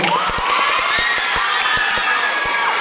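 A crowd at a gay beauty pageant's national costume round cheers and whoops with high shouting voices, with scattered claps punctuating the continuous roar.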